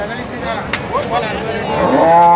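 Water buffaloes at the Erragadda buffalo market in Hyderabad, including the Jafrabadi breed, give a loud, close, drawn-out moo that swells toward the end over a low murmur of market background.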